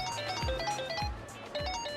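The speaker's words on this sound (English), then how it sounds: "is that your phone?" A mobile phone rings with a bright electronic ringtone, a repeating melodic pattern of tones sounding clearly at moderate loudness with no speech over it.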